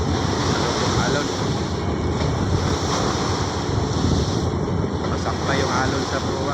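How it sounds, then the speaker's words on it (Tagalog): Ocean waves surge and wash steadily around a fishing boat anchored near a mountain shore in rough seas, with heavy wind rumble buffeting the microphone throughout. "Alon."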